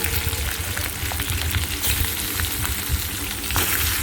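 Katla fish heads frying in hot oil, a loud continuous sizzle and crackle close up that runs steadily throughout with no voices.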